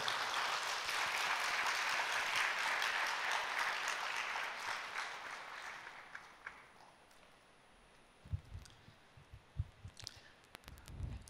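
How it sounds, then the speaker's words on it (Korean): A church congregation applauds a speaker at a Friday night service, a dense and steady wash of many hands clapping that fades out over several seconds. It is followed by a few scattered thumps and handling knocks. "나오실 때 큰 격려의 박수 한번 부탁드리겠습니다"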